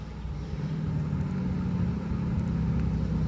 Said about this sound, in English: Is that a car? Yep, that's a car.